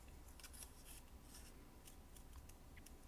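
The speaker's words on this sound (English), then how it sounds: "when you cut, keep your scissors still" Scissors fussy cutting paper for a handmade floral window card, giving soft, quiet snips and rustles in an uneven rhythm, close up and with no talk.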